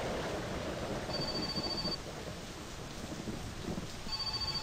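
Steady rain hisses throughout in the video game My Summer Car, with a low rumble of thunder and a faint repeating electronic tone in the background.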